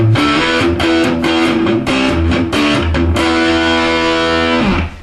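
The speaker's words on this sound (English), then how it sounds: "we're going to put the distortion on our amp" A distorted electric guitar through an amp plays loud, crunchy chords, shifting every half second or so before ringing out into a sustained chord that cuts off.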